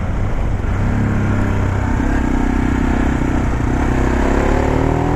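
An SWM Superdual 650 T single-cylinder motorcycle being ridden, its engine droning steadily and loudly up close with rising revs toward the end and no talk.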